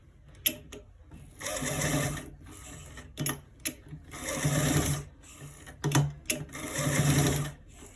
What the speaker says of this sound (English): So we are stitching it to the end part